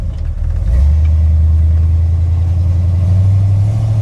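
A car engine starts and runs with a loud, steady low rumble that holds constant after the first second.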